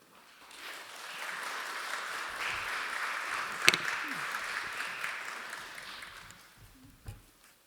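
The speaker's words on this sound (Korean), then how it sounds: "우리 박수로 환영하면서 귀한 말씀 듣도록 하죠" Applause in a church at a Friday prayer service, welcoming a missionary guest speaker to the pulpit; a steady wash of clapping from the congregation swells, holds for several seconds with one sharp clap near the middle, then fades out.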